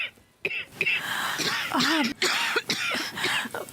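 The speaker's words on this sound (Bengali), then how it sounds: "কাশিটা বেড়েছে যে।" An elderly woman in a Bengali television drama coughs in short, harsh bursts broken up by strained breathing and moans, close and fairly loud.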